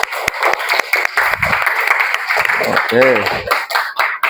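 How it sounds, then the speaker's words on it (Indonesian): A classroom of students gives a round of applause in an Indonesian teacher-training lesson, a dense continuous clapping that runs through the whole stretch with a teacher talking over it. "Berikan tepuk tangan untuk kita semua."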